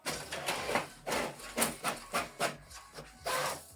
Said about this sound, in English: Select print test page.